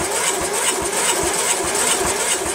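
Riding lawn tractor engine running at a fast, steady idle, with a rapid rhythmic chatter and a bright mechanical buzz heard close and continuous.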